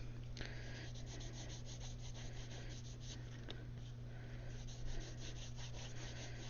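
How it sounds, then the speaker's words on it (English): Leather edge being rubbed flat against the edge of a table, a soft continuous scraping friction close by, steady throughout with faint rhythmic strokes and no talking. "just going to put it on the edge of my table here and rub so I can hold it flat and rub it a little better"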